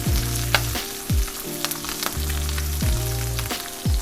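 A reverse-seared ribeye steak sears in a hot cast iron pan, making a loud, steady sizzle broken by a few low, repeated thumps.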